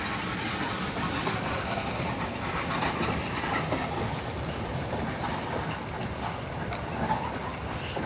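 A long tanker freight train rumbles past on the rails, a steady broad roar with faint rhythmic clacking, continuous and moderately loud throughout.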